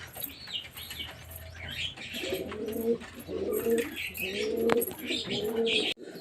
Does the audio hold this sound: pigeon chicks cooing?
yes